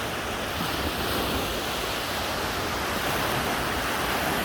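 Steady broadband wash of ocean surf rolling onto a beach at Hua Hin, Thailand, with some wind noise over the microphone and no voices.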